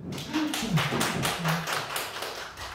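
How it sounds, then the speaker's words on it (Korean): An audience at a teacher training lecture on school discipline claps together in a steady, rhythmic patter that runs the whole time at moderate volume, with faint voices underneath. "가시면 박수 주세요"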